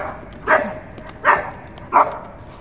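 Three sharp, high puppy barks evenly spaced, close by, with faint background hiss between them.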